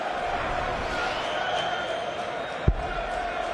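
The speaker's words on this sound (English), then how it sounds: "Listen to that crowd." Darts crowd at a PDC World Championship match roaring steadily as a broad wash of noise, with one sharp thump near the end.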